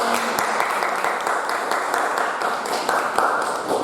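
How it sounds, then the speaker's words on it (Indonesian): Pupils in a classroom clap together for themselves at their teacher's prompt. The brisk, close applause is uneven and continues for several seconds, with a few voices mixed in. "tepuk tangan untuk kita semua"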